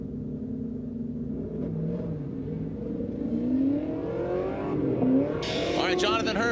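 A drift car at Formula Drift Texas, a Dynasty G37 among the Pro 2 field, roars continuously under commentary, its engine note rising and falling through the run with a sharp high-revving burst near the end.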